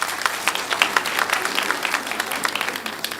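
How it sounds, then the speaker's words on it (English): Applause from an audience at a secondary school launch event, following a keynote address; steady dense clapping from a crowd throughout, moderately loud with no talking over it. "Can we give him another round of applause?"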